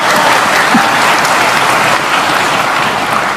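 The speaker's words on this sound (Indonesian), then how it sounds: "Adapun tepuk tangan yang kurang semangat saya maklum karena lapar semuanya" An audience at a religious lecture applauding, a loud, dense wash of clapping from many hands that stays steady the whole time.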